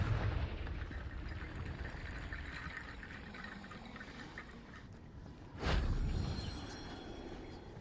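A Confringo fire spell from Hogwarts Legacy bursts into an explosion, a sudden loud blast rising out of a steady rushing background and then slowly fading, with no talking.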